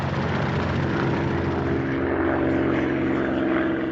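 Propeller aircraft drone steadily overhead in a wartime documentary setting, heavy transatlantic flights of planes producing a continuous loud low rumble with layered engine tones throughout, no voices.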